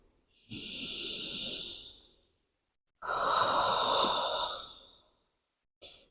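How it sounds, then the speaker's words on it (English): Slow, deep yoga breaths during a calm bedtime session: two long, soft airy exhales separated by silence, close and quiet, followed by the brief start of another breath. "Big, gentle breathing here."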